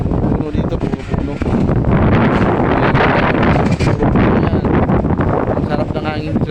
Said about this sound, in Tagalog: Ang sarap ng hangin sa taas kahit hindi mo masyadong mararamdaman.